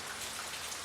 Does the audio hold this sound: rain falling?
yes